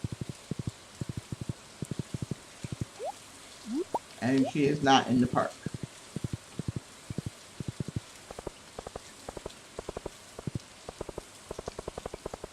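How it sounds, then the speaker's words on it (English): Spring rain in a video game ticks down as a light, regular patter throughout, with a person talking over it in the middle. "But it's raining."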